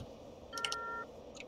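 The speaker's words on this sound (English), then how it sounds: "my alarm's going off" A phone alarm goes off as a short run of high electronic beeps with a sustained tone, followed by a second brief burst of beeps, all faint over a low background hum.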